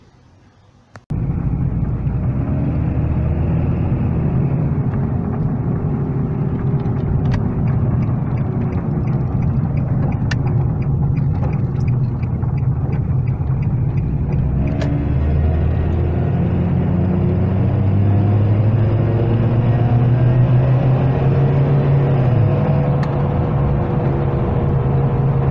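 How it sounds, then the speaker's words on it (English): A 2003 Nissan Altima 2.5L with a loud header and an exhaust being fitted with a Walker muffler runs steadily. A deep, constant droning rumble starts after a second and holds close and loud, with no talk. "You can hear that exhaust noise"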